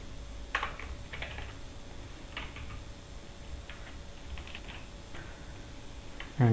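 Sparse, irregular keystrokes on a computer keyboard while typing program code, a few isolated clicks spaced over several seconds against a quiet room hum.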